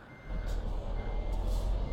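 Warning beeps from a Scania truck towing a special-transport trailer in Euro Truck Simulator, a fast, steady beeping over a loud, constant engine rumble, with no talk.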